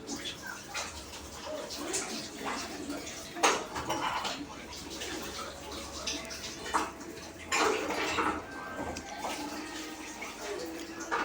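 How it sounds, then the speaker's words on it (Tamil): Running water and soap wash a knife used for cutting jackfruit, giving a steady splash broken by several sharp metallic clinks and scrapes, close by. "அதுக்கப்புறம் நம்ம சோப்பு போட்டு வாஷ் பண்ணிக்கலாம் எப்பவும் போல்"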